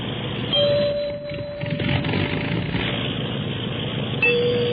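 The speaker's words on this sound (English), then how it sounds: "Watch it intently as I strike a variety of notes on the musical glasses." Musical glasses are struck to sound a few sustained, ringing tones, one long clear note and a later shorter one, over a steady low engine-like hum.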